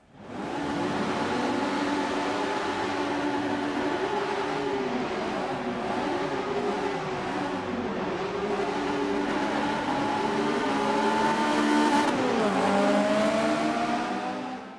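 Mercedes Evolution race car engine at Homestead Speedway in the Forza video game, a steady loud droning roar with rising and falling gear pitches, climbing sharply near the end.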